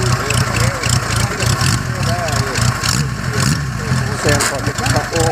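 An Ariel Square 4 1000cc motorcycle engine runs steadily at idle with a busy mechanical burble and slight rises in revs, close by, while someone talks over it.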